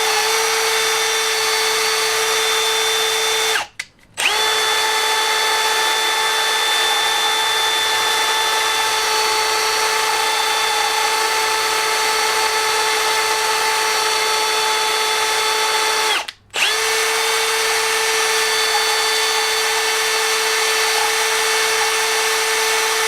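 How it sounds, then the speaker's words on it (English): Valves from a 2000 Ford Ranger engine being ground with a power tool: a steady, loud mechanical whine that runs continuously and cuts out twice for a moment before starting again. "That's how you're supposed to be able to tell if the valves are grinded"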